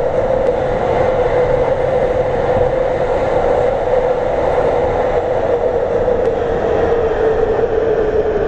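An MTR C-train runs along the Island Line in the OpenBVE simulator, giving a steady, loud rumble of motor and wheels on rail that holds constant throughout, with no voices.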